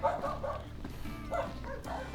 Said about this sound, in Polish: No i wszędzie psy obronno-zaczepne.